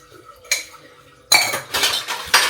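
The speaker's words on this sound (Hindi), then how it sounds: "तो चलो जी मैं तो धो लेती हूँ बर्तन" Metal utensils and dishes clink and clatter during washing up in a home kitchen, in a short burst then several louder, close bursts of rattling cutlery.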